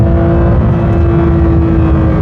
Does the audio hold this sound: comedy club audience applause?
no